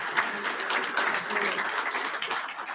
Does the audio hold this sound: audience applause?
yes